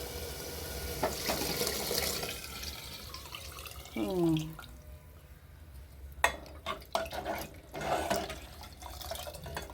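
Coconut milk pours steadily into a simmering sambar pot with soft bubbling and splashing; a voice speaks briefly.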